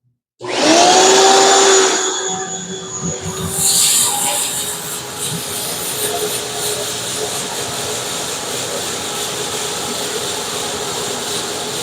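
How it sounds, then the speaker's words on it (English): A shop vac starts up with a sharp motor whine that quickly settles into a loud, steady whooshing roar as it cleans out a shrimp tank, with brief slurping surges near the start. "now it's time for the shop vac. Let's get this thing cleaned out."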